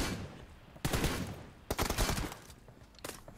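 Pistol fire in a team deathmatch video game: several bursts of sharp, rapid shots in quick clusters, loud and close, with no talking.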